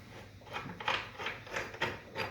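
A ratchet clicks in quick, even strokes while backing a bolt out of a C6 Corvette's transmission, the mechanism sounding close and fairly quiet.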